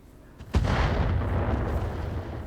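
Heavy weapons fire from battling mechs in the RogueTech mod for BattleTech, a sharp blast followed by a long, loud rumbling roar that trails off slowly.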